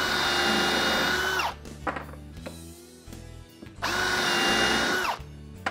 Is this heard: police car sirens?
no